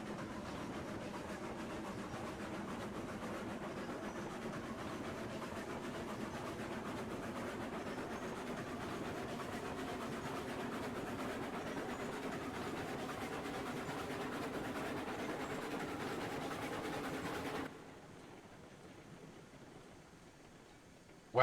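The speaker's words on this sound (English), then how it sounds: "And our train is just rolling right along." A train in the video game Railroads Online rolls along its tracks with a steady, even rumble of wheel and engine noise at a moderate level, until the sound cuts down abruptly near the end.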